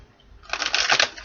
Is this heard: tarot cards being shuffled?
yes